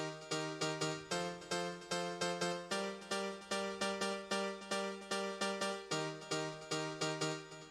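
A bright, repeating piano melody of short plucky notes over steady chords, looping in a bouncy rhythm with no voices.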